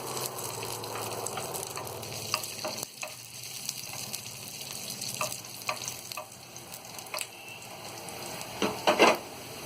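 Whole dried chillies, broken in two, fry in hot oil for chane ki bhaji, a steady close sizzle with a few spoon clinks and stirring taps against the pan.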